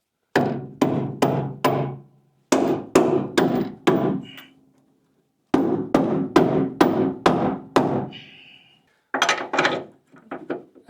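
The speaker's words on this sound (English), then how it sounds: "hammer will help." A hammer strikes steel as a rebuilt control arm goes into the suspension of a 1974 Plymouth Duster. There are loud, close, metallic blows in rapid bursts of three to five, with short pauses between bursts.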